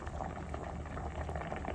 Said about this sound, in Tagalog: Naririnig ko, kumukulo na eh.